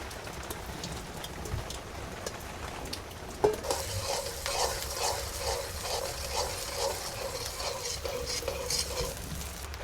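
Onion, garlic and whole spices such as cardamom sizzle steadily in a pan during a storm, with a rainy hiss over the hot oil, a single sharp clatter near the start and rhythmic stirring pulses after it.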